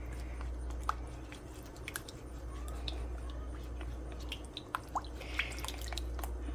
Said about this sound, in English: And this I will thoroughly stir.